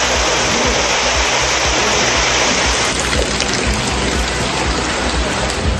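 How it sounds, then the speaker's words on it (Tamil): Heavy rain pouring down in a dense, steady roar, loud and close throughout with no break, like a downpour drumming on surfaces and running water. "தூத்துக்குடி, தென்காசி மாவட்டங்களில் கனமழை."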